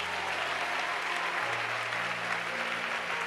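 A church congregation at a sermon bursts into dense, sustained applause, loud and continuous throughout, with a faint murmur of voices mixed in.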